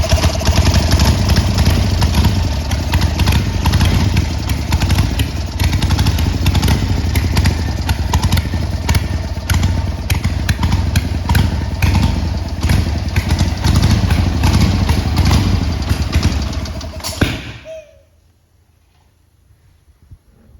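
A 1980 Harley-Davidson XL 1000cc Ironhead Sportster, carburettor fault, running on choke: a loud, close, lumpy idle for about seventeen seconds, then it cuts out abruptly into near silence.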